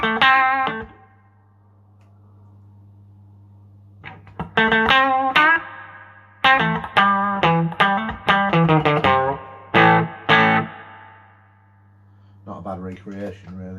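Electric guitar played through a digital reverb effect imitating an amp's spring reverb, with sustained chords and short picked phrases separated by gaps, a steady low hum underneath and a lingering ambient tail.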